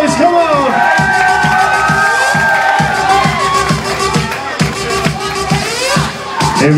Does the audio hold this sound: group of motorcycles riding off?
no